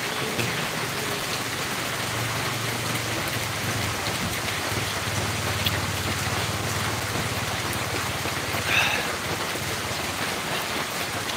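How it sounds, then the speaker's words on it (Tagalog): Heavy rain pours steadily and loudly on a zigzag mountain road, a dense, unbroken hiss of rain on surfaces with a faint low rumble beneath, no voices. "Hindi na rin kinaya yung ulan."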